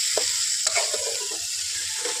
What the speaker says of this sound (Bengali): এখন এখানে মশলাগুলো মোটামুটিভাবে ভাজা হয়ে গেছে তেলের মধ্যে।